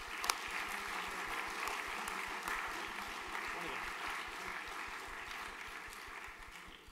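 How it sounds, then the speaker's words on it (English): Audience applause at a junior school graduation ceremony in a hall, a steady wash of clapping that holds evenly throughout, moderately loud with a faint steady tone underneath. "Big round of applause."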